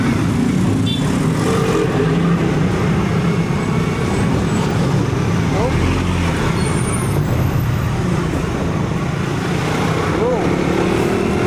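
Dense road traffic crawling in a jam after a collision, a loud, continuous rumble of car and bus engines close by, with faint horn-like tones and scattered voices underneath.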